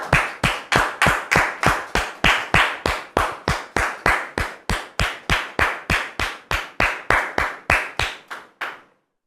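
An audience welcoming guests with applause in steady rhythmic unison, about two dozen sharp, evenly spaced claps at a brisk beat that stop abruptly.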